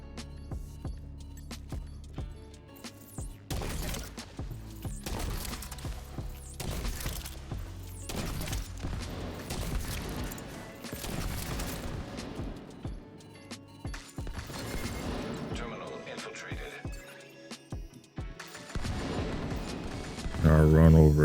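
Repeated weapon shots at oxidizers during a Division 2 fight at Kenly College, clattering in uneven bursts throughout while someone talks over the gunfire.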